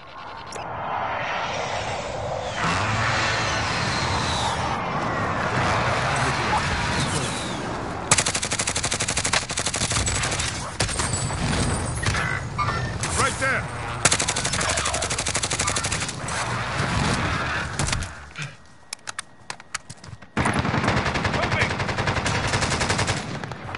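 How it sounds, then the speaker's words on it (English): Sustained heavy machine-gun fire and rapid gunshots from a precision airstrike in a shooter video game, loud and continuous for long stretches with brief gaps, a near-silent dip, then bursts resuming, under faint game chatter. "Precision airstrike inbound."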